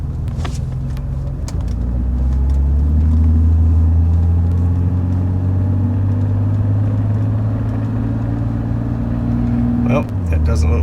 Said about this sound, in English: I'm just going to start the car and take it for a short drive